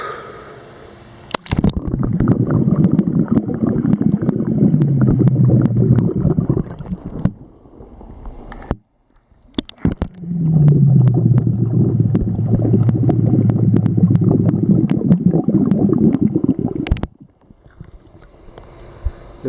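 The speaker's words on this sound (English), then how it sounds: "let the air out slow through your nose when you're under the water" Two long, steady streams of bubbling air let out slowly through the nose by a swimmer underwater, each lasting several seconds with a short quiet gap between them, close and fairly loud.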